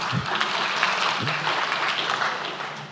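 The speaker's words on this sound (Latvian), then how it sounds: "Jā, aplausi." Audience applause at a panel discussion, a steady wash of clapping from a crowd that holds loud and even throughout, with no one speaking over it.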